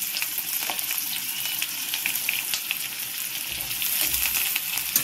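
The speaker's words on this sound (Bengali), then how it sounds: "আলু সয়াবিনটাকে আমি ভালো করে ভেজে নেব।" Potatoes and soybean chunks, pre-soaked in hot water, fry in a pan with a steady, bright sizzle and crackle, close and continuous, with faint scraping stirs and no talking.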